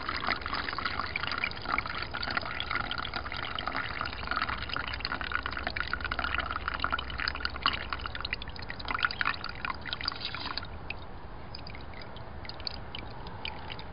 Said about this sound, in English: you're just going to try to pour it and keep all your chips in there